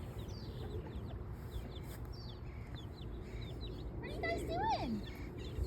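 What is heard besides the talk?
backyard chickens clucking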